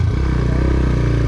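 A motorbike ridden uphill toward Swayambhu in Kathmandu on a cold day, its engine giving a steady, loud mid-pitched drone with a fast regular pulse, close and continuous without speech.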